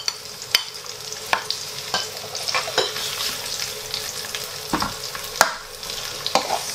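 Onions and garlic frying in a pan for pancit canton, a continuous close sizzle broken by repeated spatula clicks and scrapes as the mixture is stirred, with no talking.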